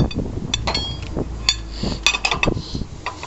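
Light metallic clinks and taps sound close by as a steel 8.5 by 5.5 inch bolt is pushed through the top hole of a 6000 hoist assembly, in small irregular bursts.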